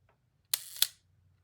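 A film camera's mechanical shutter fires at a half-second speed, giving a sharp click, a short held interval, then a second closing click, close and alone against quiet.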